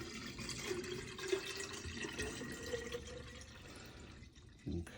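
Distilled water pours steadily into an empty jar, a continuous close splashing trickle that runs for several seconds before a brief louder slosh at the end.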